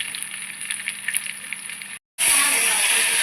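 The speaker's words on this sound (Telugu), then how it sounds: "తాలింపు వేస్తున్నాము" Mustard seeds, cumin, garlic and curry leaves hit hot oil for a tempering, giving a hissing sizzle that cuts out for a moment, then bursts back louder and harsher, close up.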